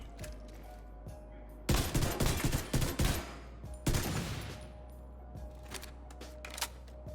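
Rifle shots fired at a target in The Division 2, a burst of rapid, sharp gunfire cracks in two loud clusters over a low steady hum, with isolated faint clicks before and after.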